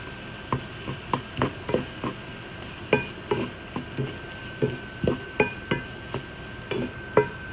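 Soft tamarind frying in a pan for a dal rice meal, with a low steady sizzle under repeated sharp clinks and scrapes of a spoon stirring against the pan, no talking.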